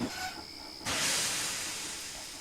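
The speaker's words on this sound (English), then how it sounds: "they quickly puffed out of the quarry back to the" The steam engine Bertram backs out of a quarry. A quiet mechanical tone gives way to a loud, sudden burst of steam hiss that holds and slowly fades, heard alone with no talking.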